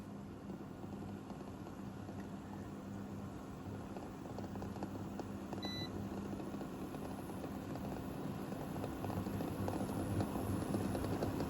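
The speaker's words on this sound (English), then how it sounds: "Now I'm going to put this raw egg into the boiling water." Quiet, steady bubbling and rumbling of water boiling in a pot with a raw egg in it, continuous and low, with no voices.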